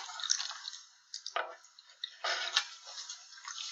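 Simulated rain drips onto soil in a classroom erosion model made from a bottle, with faint, irregular wet drips, ticks and squishy splats scattered over a few seconds, with no talking.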